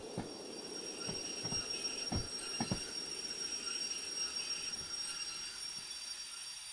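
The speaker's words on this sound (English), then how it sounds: "Even more brakes on." Train braking in the video game Derail Valley, a steady rail hum with a thin high brake whine and a few sharp clanks and squeals, fairly faint and without talk.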